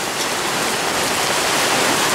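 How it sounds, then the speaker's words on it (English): Quarter-sized hail and heavy rain pound down at an outdoor flea market in Rutledge, Missouri, making a dense, steady, loud roar of impacts that fills the whole clip with no voices. "right now, if I do, I'm going to get hammered with hail."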